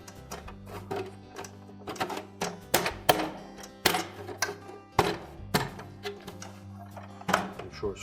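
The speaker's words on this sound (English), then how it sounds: "give it a sharp bump with the palm of your hand to lock those little tabs down in" A palm gives sharp bumps to a Whirlpool refrigerator ice bin part to lock its plastic tabs in place, producing a series of irregular close knocks and clicks of hard plastic, some in quick pairs, over faint room noise.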